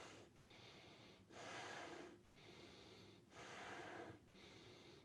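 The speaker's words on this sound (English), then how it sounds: "Just keep breathing long and deep." Slow, deep breaths during a Kundalini yoga pose, with long airy inhales and exhales alternating about every second, close and quiet with no talk.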